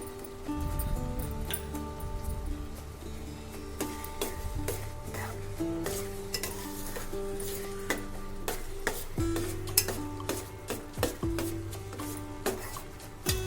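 Carrot halwa being stirred and sautéed in ghee in a pan, with a steady scraping and soft sizzle under repeated clinks of the spoon against the pan.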